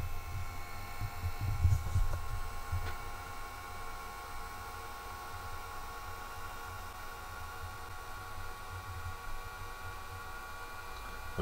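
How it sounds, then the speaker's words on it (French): A projector's cooling fan runs close by with a steady, quiet whooshing hum and faint whining tones, unchanging throughout with a slight low rumble near the start. "Je vais vous laisser écouter le bruit qu'émet le ventilateur en me rapprochant un peu de lui."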